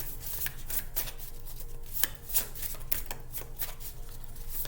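Tarot deck being shuffled by hand: a steady run of quick riffling card flutters and slaps over several seconds, close and fairly loud, with a brief pause and a card dropping out midway.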